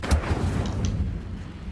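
An Incendio fire spell cast in the game Hogwarts Legacy, heard as a short, sharp burst followed by a second brief flare over a steady low rumble.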